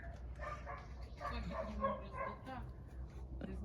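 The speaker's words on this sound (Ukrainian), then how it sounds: "Страшний собака" A dog yips and whimpers in short excited bursts, with a person's voice mixed in, fairly close and moderately loud.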